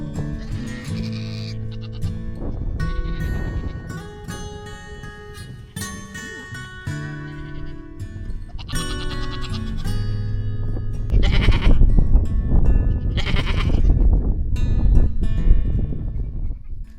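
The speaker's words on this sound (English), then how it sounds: "we had a chance to meet the goats and the other animals he had." Several goats on a farm in Scotland bleat repeatedly, with loud, wavering calls overlapping one another close by against some faint rustling and movement.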